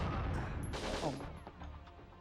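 Gunfire in WinBack: Covert Operations on PS2 sounds as a short burst of sharp shots over game background noise, fairly quiet overall.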